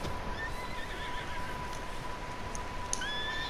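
Horses neigh and whinny in a barn in Red Dead Redemption 2, several high whinnies rising over steady ambient game sound, with faint hoof clatter and no talking.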